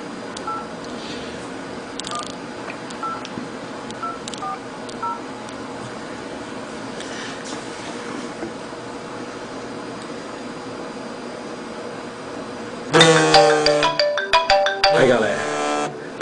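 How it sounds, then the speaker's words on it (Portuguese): An iPhone 3G placing a call in an office: a sequence of short keypad dialing tones spaced over several seconds, followed by a loud ringtone bursting in near the end. "Vou ligar para outra linha aqui do escritório"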